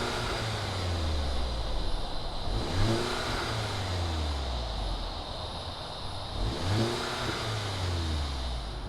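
Volkswagen Golf GTI Autobahn edition engine running, a steady mid-range rumble with a couple of rising revs, loud and close over a broad roar.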